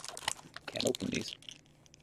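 A Magic: The Gathering booster pack wrapper is pulled open, a short burst of close crinkling and tearing plastic lasting about a second, with brief crackles before and fading rustle after.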